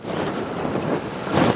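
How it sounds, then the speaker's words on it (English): Strong wind buffets the microphone on a seashore beside a World War II pillbox, with powerful waves rolling in underneath; a steady, roaring broadband rush that swells louder toward the end, with no one speaking. "Sea's very powerful now, coming in. Very windy indeed."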